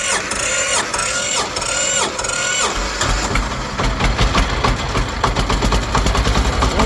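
A Kentavr tractor engine cranks several times in a rhythmic whir, then catches and settles into a loud, rapid, rattling idle, recorded close with no speech.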